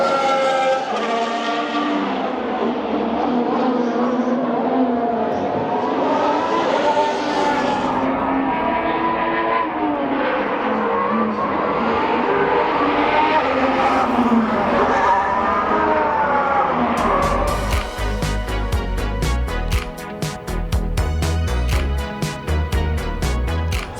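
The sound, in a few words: Formula 1 cars on track during practice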